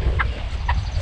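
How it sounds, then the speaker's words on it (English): Chickens cluck twice in short, clear bursts about half a second apart, close by over a low, steady outdoor rumble during transfer on a farm. "Okay, two chickens."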